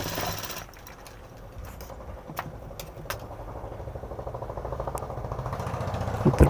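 A sewing machine stitching a blouse, running with a fast, even mechanical rattle that speeds up toward the end, close and moderately loud.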